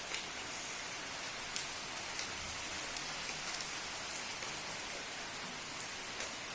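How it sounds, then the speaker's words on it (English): Steady rain falls on surfaces in the hill town of Mcleodganj early on a cold morning, a continuous even hiss of drops with occasional louder patters, heard alone without voices. "It is raining from the yesterday's night."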